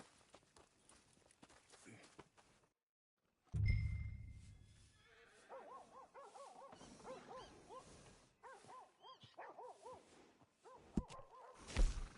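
A workhorse gives a long whinny at close range, with hoof thuds and quiet ambient noise around it.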